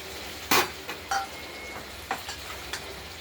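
Spices with turmeric and nigella seeds are stirred and fried in a pan. A handful of sharp scrapes and clinks of the spoon stand out over a faint, hissing sizzle.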